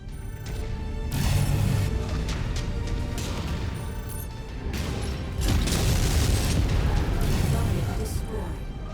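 Mech blown apart in MechWarrior 5: Mercenaries, a series of heavy rumbling explosions and booms swelling twice over several seconds, loud and dense, with mechanical clanks and weapon fire mixed in.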